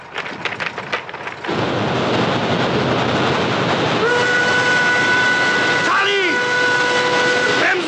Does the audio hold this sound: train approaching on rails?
yes